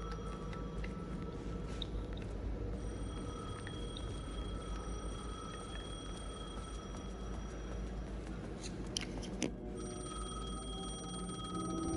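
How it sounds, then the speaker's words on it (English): In the video game Alan Wake 2, a payphone rings with faint, sustained electronic tones over a dim, droning ambient backdrop. "The payphone was ringing."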